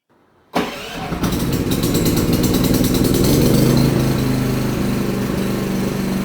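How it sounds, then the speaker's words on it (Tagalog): A Philking PK4200ie2a 4200 inverter silent generator starts on its own after a power outage: brief quiet, then the engine catches abruptly and settles into a steady, loud, continuous run. "Dapat mabubuhay ng kusa yung ating Philking 4200 inverter silent generator"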